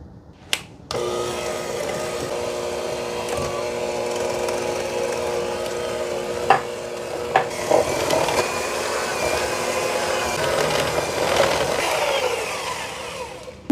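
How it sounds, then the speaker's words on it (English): An electric hand mixer starts abruptly and whirs steadily while beating gingersnap cookie dough of flour and wet ingredients in a bowl, a close motor drone with a few knocks against the bowl as the pitch shifts. "Oh my gosh, this mixer has like a mind of its own."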